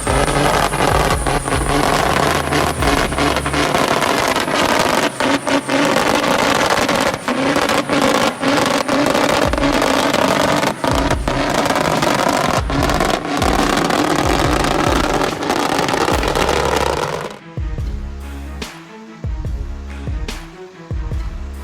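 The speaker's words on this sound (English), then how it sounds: "The roar of the modified tractor's engines tore through the air" Modified off-road tractor engines roar loudly and continuously with revving surges and scraping, then drop away abruptly near the end to quieter, intermittent rumbling.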